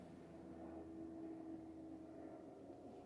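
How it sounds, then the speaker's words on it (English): A police helicopter flying overhead: a steady, faint, distant droning rotor and engine hum with a constant tonal whine, no talk. "There's probably a police helicopter looking for some savages right now."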